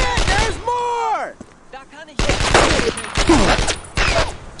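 Gunfire in the WWII shooter Brothers in Arms: Road to Hill 30, with loud bursts and blasts clustered after a brief lull, mixed with shouted voices and other combat sounds.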